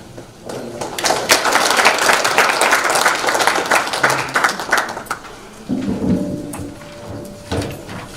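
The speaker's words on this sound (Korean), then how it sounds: "큰 다시 한번 박수 부탁드립니다" An indoor audience at an energy research institute's anniversary event applauds after a lecture with dense, sustained clapping that fades after several seconds, followed by quieter room noise.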